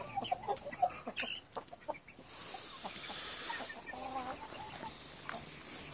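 Small young chickens cluck and peep in a simple pen, several short close calls in a loose rhythm at first, then quieter scattered clucks over a hissy background.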